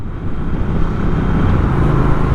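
A Triumph Speed Twin 1200 motorcycle under way on a dual carriageway, a loud, continuous engine drone mixed with rushing wind noise.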